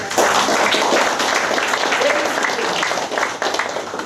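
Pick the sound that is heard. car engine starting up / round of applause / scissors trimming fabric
round of applause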